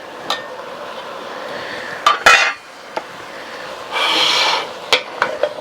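Two small chopped onions go into a stew pot of browned meat for green chile stew. Metal utensils clatter and scrape against the pot, then a steady sizzling rasp follows, with sharp clinks scattered throughout.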